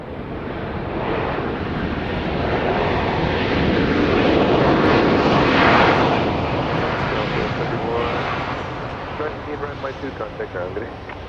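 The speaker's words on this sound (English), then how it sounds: "Flight 3119 coming in from Indianapolis, Indiana. 737-700." A Boeing 737-700 airliner landing at Dallas Love Field at night, a broad roar of jet engines swelling to a peak mid-way and fading again, with voices talking over it.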